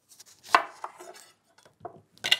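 A knife cuts a lemon in half on a kitchen board, a few soft knocks and slicing scrapes, brief and close, with no voice.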